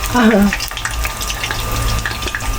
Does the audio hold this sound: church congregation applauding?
no